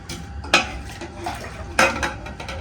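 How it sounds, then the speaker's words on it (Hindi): Ice dropped into a vessel of thandai, two sharp clinking impacts a second apart amid soft kitchen clatter, close up and without talk. "डाल यार बर्फ डाल"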